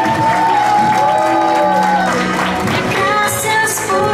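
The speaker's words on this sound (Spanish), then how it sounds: "Fuerte los aplausos." Applause and cheering from guests at a quinceañera party, loud and continuous with shouts and music-like tones mixed in, filling the whole stretch.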